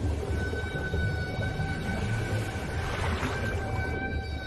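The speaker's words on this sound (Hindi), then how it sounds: "हम्पबैक व्हेल की गाने की धुन जैसी लहकती ये आवाज" Long, drawn-out moaning humpback whale song rises and wavers over a constant underwater hiss, resonant and eerie, with no other sounds.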